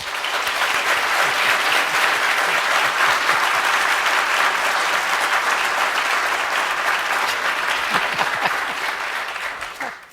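An audience applauds to welcome three panelists at a talk, a steady, full crowd clapping that holds for about ten seconds before tapering off at the end.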